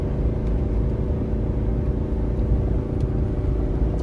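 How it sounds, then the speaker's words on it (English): Engine braking on a 2019 Ford F-450 Limited towing about 30,000 lb in tow/haul mode and held in third gear makes a loud, steady, close diesel rumble that continues without break and has no voices over it. "The engine brake is doing its thing right now."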